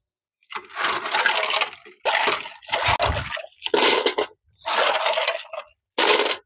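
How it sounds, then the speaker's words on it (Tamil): Snails being rinsed repeatedly in water: six splashing, sloshing bursts with short silent gaps between them, close and fairly loud, with no talking. "ஒரு 4 வாட்டி நல்லா கிளீனா அலசி எடுத்துக்கலாம்."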